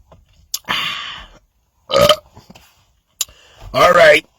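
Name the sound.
burp after drinking Pepsi peach and vanilla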